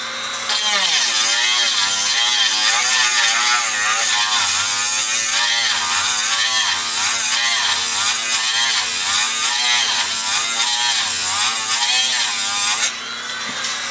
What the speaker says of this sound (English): Speed that Dremel up a little bit.